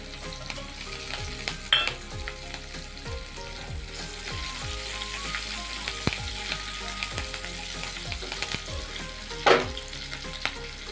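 Continuous oily sizzle and crackle of chilies frying, with occasional spatula scrapes and a louder clatter near the end.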